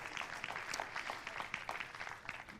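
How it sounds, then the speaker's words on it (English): Faint, distant clapping from a church audience, a scattered patter of hands that continues steadily without voices. "Every one of you clapped and said yes and amen"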